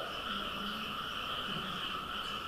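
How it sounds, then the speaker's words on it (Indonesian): Frogs croak in a continuous chorus near a prayer hall during an evening religious lecture, a steady, dense trilling drone that stays level throughout with no voices over it. "Risau lah aku bunyi katak ini."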